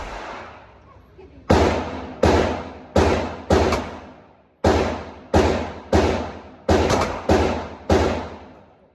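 A .357 Magnum revolver fires Black Belt Tri-Plex buckshot rounds in ten loud, sharp reports, each with a short decaying tail, spaced roughly half to one second apart after a quiet start.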